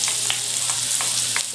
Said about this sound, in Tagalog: Lagay natin ang onion.